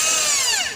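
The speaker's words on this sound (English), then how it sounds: "Using a 16 millimeter drilling bit." A power drill fitted with a 16 millimetre bit whines at high speed into aluminium, a loud bright burst that winds down in pitch and fades within a second.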